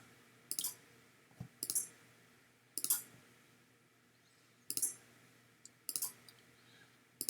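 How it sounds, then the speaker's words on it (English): Relays in the internal automatic antenna tuner of a Ten Tec Pegasus transceiver clicking in quick, irregular clusters, crisp and close against a quiet background, with no speech. "I hear some clicking."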